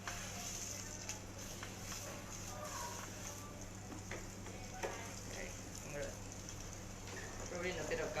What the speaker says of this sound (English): Hear that sound, the sizzling sound